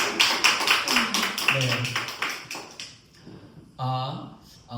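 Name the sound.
applause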